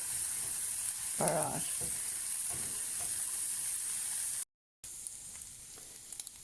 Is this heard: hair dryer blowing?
no